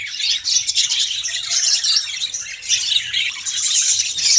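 Budgies (budgerigar parrots) in a breeding colony squawk and chirp in a dense, continuous chatter of shrill, overlapping calls, close and fairly loud with no pauses.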